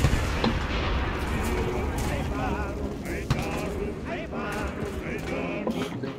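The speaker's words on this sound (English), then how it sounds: "They're still shooting someone." Gunfire during a street battle in the World War II shooter Enlisted, set in Stalingrad, with scattered shots and cracks over a dense, constant battle din while a voice talks throughout.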